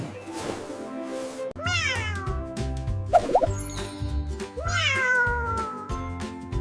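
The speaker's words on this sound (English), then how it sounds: "It's a cat." A domestic cat meows about three times in a row, each call a clear, close, rising-and-falling cry, with no talking.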